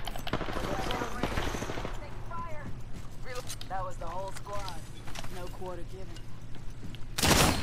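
Incoming gunfire in the game Apex Legends crackles in rapid bursts, loudest at the start and again sharply at the end, with players talking over it throughout.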